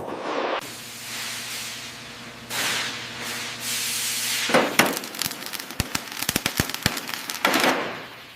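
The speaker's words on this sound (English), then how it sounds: "Hitting the first rivet now" A rivet is driven into a carrier wing section with a series of sharp, loud impacts that crack out irregularly after a steady hiss and low hum.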